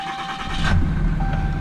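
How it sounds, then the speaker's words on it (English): A Ram 2500 Mega Cab diesel pickup starts up from inside the cab: a short cranking whir catches into a low, steady idle rumble, heard close and fairly loud with a faint chime tone running through. "Put on the brake, press the start button"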